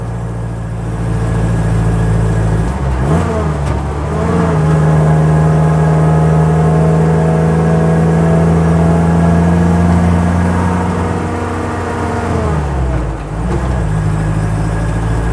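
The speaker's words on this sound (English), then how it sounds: "Because now we're going uphill in third gear." A 1958 Ford Thames 400E bakery van's engine labours steadily uphill in third gear, a loud continuous drone with a sustained pitch that dips briefly and resumes as the load changes.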